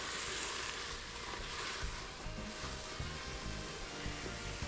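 Squash browning and caramelizing in a hot pan gives a steady, close sizzle and fry hiss with a dense, continuous crackle and no voices, loud and even throughout.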